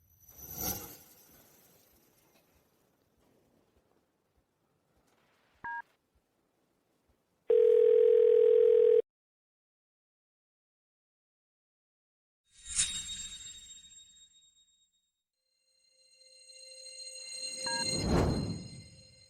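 A telephone call rings out before being answered: a short tone, a steady electronic ringback burst, then brighter chiming ring tones separated by silence, fairly faint and with no talking.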